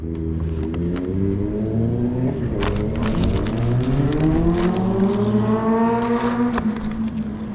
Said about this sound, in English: we got the loud motorcycle boys outside today too.